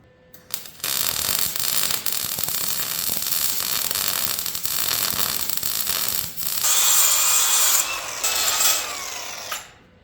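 Welding along the bottom of a shortened Ford F100 frame: a steady, loud crackling hiss runs nearly the whole time, with a brief pause before picking up again and cutting off near the end.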